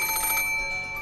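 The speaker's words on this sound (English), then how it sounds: "the ring of the phone, which had sounded like a scream for help" A telephone rings in the Umineko visual novel, a steady electronic ring with sustained bright tones that fade after a short burst, heard alone with no talk.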